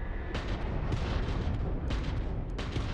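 Homing missile fire from a spaceship in the space combat of Starfield: several loud, rushing blasts burst out at uneven intervals over a steady rumbling engine drone.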